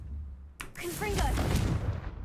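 A Confringo spell is cast in a video game, a sudden explosive burst with a whooshing blast that rumbles on for a second or two, with a faint voice beneath.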